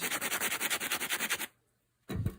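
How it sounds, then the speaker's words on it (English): A metal gun part being deburred by hand gives a quick, rhythmic rasping scrape, about a dozen close strokes, then a pause and one more short scrape. "so just deburr that because it's covered in burrs"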